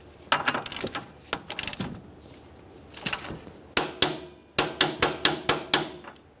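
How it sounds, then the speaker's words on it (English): A hammer drives a punch to stake the rear axle nut into its slot on a 2007-2013 Acura MDX: sharp metallic strikes, first irregular, then a final run of about six evenly spaced, loud blows. "use a hammer and a punch and drive this portion of the nut down inside that slot"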